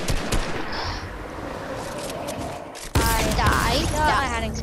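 Gunfire rattles as players shoot bots in Fortnite, with bursts of sharp, rapid shots cracking close by and a heavier volley near the middle, while voices talk over the shooting.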